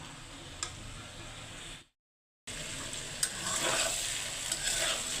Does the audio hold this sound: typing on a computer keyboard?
no